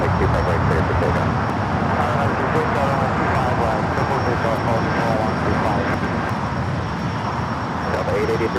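Heavy ANA Boeing 787-9 Dreamliner taking off from the south side runway at LAX, a steady, loud, broadband engine roar filling the whole stretch without letup, with voices talking underneath.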